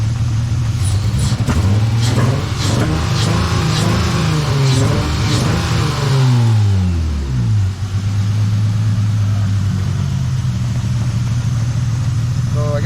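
A car engine fitted with an upgraded fuel pressure regulator idles, then revs up and drops back in a sweeping swell before settling to a steady idle, close and loud, with some brief clicks early on.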